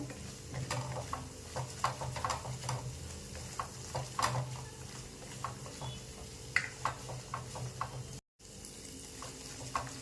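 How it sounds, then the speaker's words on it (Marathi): Ground masala paste with curry leaves sautéing in a pan for a traditional Maharashtrian amti, giving a steady sizzle broken by repeated scraping stirs of a spoon throughout. "आणि हे वाटण आपल्याला चांगलं परतून घ्यायचं आहे त्याचा कच्चेपणा जाऊपर्यंत."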